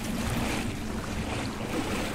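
Pool water in the POOLS backrooms-style horror game gives a steady, hollow wash and lapping hum. It fills the space evenly, moderately loud, with no voices over it.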